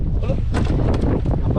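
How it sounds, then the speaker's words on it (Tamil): Strong wind buffeting a small fishing boat out in the deep sea as rain approaches, a continuous roaring rush with gusty surges close to the microphone. "காத்து அந்த சைடு காத்து மழை வந்துட்டு இருக்கு"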